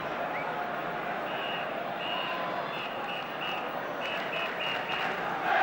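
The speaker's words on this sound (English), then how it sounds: "there's a phantom whistler in the crowd" A spectator whistles in the crowd at the 1975 League Cup Final between Aston Villa and Norwich City. Short, repeated whistle blasts sound in broken bursts over the steady murmur of the stadium crowd.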